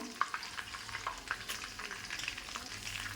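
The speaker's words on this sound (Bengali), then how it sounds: "এবার এই তেলের মধ্যে আমি দিয়ে দেবো গোটা গরম মশলা" Whole garam masala sizzling in hot oil, a soft crackling fizz dotted with small pops and faint stirring scrapes, close and fairly quiet.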